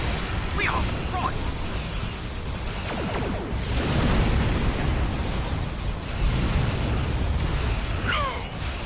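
A starship blows up in the game Star Trek Online, heard as a rumbling series of blasts and bursts swelling and fading over several seconds, with some voices underneath.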